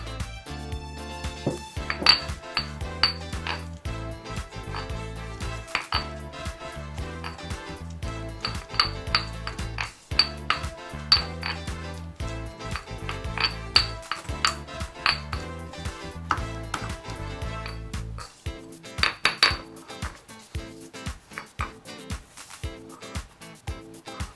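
Bean sprout salad ingredients mixed in a bowl for kerabu taugeh: a continuous run of clinks and metallic scrapes as utensils strike the bowl, close and fairly busy, with no talking.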